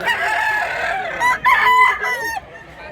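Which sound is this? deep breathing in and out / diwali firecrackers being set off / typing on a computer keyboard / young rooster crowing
young rooster crowing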